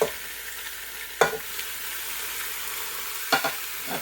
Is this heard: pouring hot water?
no